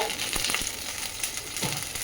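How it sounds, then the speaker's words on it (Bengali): Ginger paste and green chillies frying in a little oil, a close, continuous crackling sizzle with small stirring pops throughout, no voices. "এর মধ্যে আদা বাটা দিচ্ছে আর কাঁচা লঙ্কা দিচ্ছে কাঁচা লঙ্কা দিয়ে এই যে একটু ভাজা ভাজা করবে"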